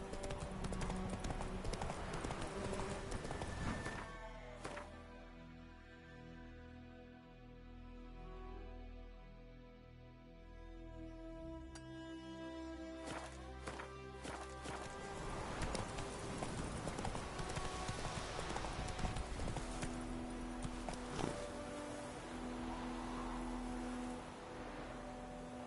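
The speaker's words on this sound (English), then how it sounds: "Run, Roach. Let's go." Hoofbeats of a horse galloping in the Witcher 3 video game, a steady clip-clop rhythm running through nearly the whole stretch over a dense layer of game music and ambience, fairly loud and close.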